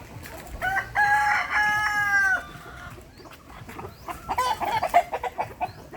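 A rooster crows clearly, followed by a few scattered clucks and cackles nearby from brown egg-laying hens on a small farm, with faint background hubbub and no talking.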